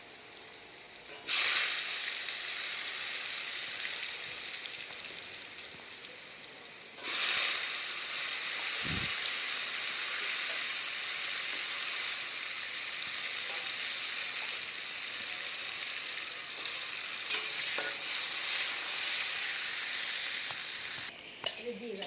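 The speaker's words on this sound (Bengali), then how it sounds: "সোয়াবিনের আলুগুলো একটু ভেজে নেব।" Potato pieces fry in oil seasoned with salt and turmeric, giving a steady close sizzle that jumps louder twice as more goes into the pan and keeps hissing throughout, with one brief knock partway.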